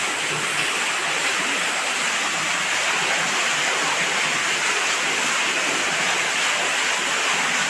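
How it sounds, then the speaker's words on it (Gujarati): Loud, continuous rush of water gushing from a newly drilled farm borewell under full pressure, a dense steady roar without pause or voices. "જોરદાર પાણીની આવક થઈ ગઈ છે, જોઈ લો તમે"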